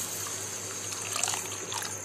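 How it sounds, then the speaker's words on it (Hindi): A glass of water poured into a pan of spiced pointed gourd (parwal) curry, a steady close splashing pour with a faint hiss under it. "मैंने यहाँ पे डाला है एक गिलास पानी।"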